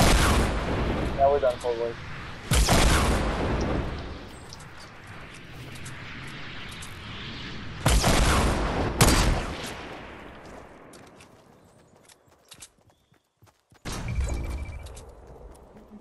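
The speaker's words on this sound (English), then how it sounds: "Hey, they're shooting rockets." Rockets fired in Fortnite battle royale, several loud explosive blasts spread across the stretch with rumbling decay between them and quieter gaps; someone speaks briefly.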